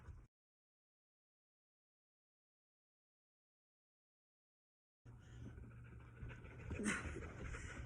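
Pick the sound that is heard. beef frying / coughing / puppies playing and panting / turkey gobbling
puppies playing and panting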